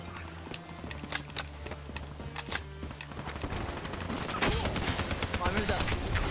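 Gunfire in the Black Ops 3 video game, rapid sharp shots in quick succession over a rhythmic low pulse, shifting into a denser roar of continuous fire and noise toward the end.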